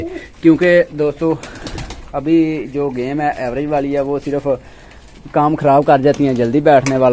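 Pigeons kept by a fancier cooing softly in the background while someone talks over them almost throughout.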